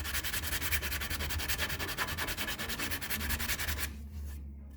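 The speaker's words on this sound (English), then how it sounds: "we gotta see if we can sand all this excess little marks and stuff" Wood being sanded by hand to smooth away small marks on a bed frame under construction, a steady close rhythmic rasp of back-and-forth strokes that stops abruptly near the end.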